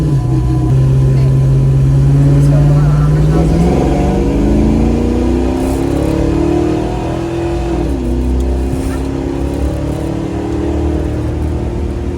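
A Mustang engine hums while driving, pitch climbing steadily under acceleration, then dropping abruptly at a gear shift before rising again, loud and close inside the car.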